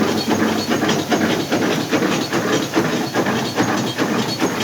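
Homemade grain cleaning machine running with three sieves: a loud, continuous rattling hiss with a fast, even pulsing rhythm, close by and steady throughout, with no talk.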